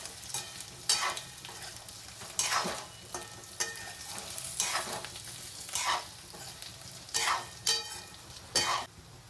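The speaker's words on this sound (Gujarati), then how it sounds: "આપણે સારી રીતે મિક્સ કરી નાખશું." Boiled potatoes for a dry potato sabzi being stirred and fried in a pan, with a steady close sizzle broken by repeated scraping strokes of the spoon every second or so, no voices.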